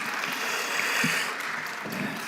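Audience applause at a forum session, a steady broadband wash of clapping from a large seated crowd at moderate level, continuous throughout with no voices on top.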